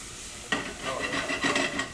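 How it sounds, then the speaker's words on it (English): Lots of fresh garlic dropped into hot Texas olive oil, a sudden sizzle bursting in after a quiet start and crackling on with bubbling pops, close and fairly loud. "We're gonna start with a little beautiful Texas olive oil. All right, a little fresh garlic."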